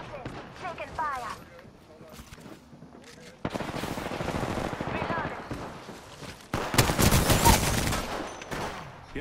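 Rapid automatic gunfire from a shooter video game, Apex Legends Arenas, in bursts that grow louder and denser toward the end, with a player's voice talking over the shooting.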